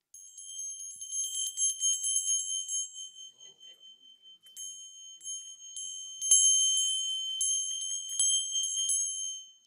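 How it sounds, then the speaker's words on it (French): An Armenian bell rings in high, clear metallic strikes that sustain and decay. The tones come in irregular clusters, close and moderately loud, in an otherwise quiet space. "elle m'a offert cette cloche arménienne"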